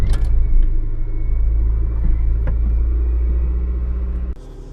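An Acura Integra DC4 engine on a cold start, a loud, steady low rumble and drone close by that holds for about four seconds before abruptly cutting off.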